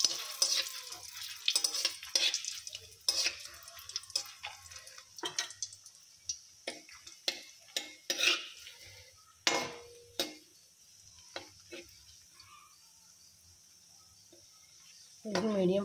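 A spatula stirs and turns bread gulab jamun in a pan over a medium flame, giving soft scrapes, taps and drips with a faint sizzle, close up and uneven in rhythm, with no talking.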